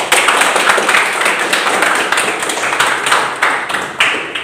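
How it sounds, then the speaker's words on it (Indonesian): A classroom of students claps together in a dense, steady burst, loud and close, with the clapping holding an even rhythm for several seconds. "beri tepuk tangan"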